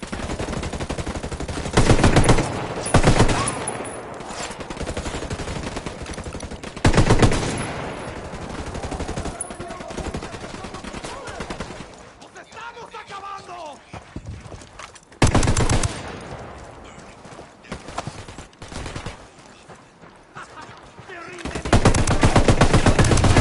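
Bursts of automatic gunfire from the video game Ghost Recon Wildlands, rapid loud volleys broken by quieter gaps, with voices calling out between the shooting.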